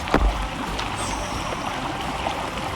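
Rainwater pours steadily outdoors by a cabin in the woods during rainy season, used as a makeshift shower; a continuous close wash of falling water with a brief thump near the start, no talk.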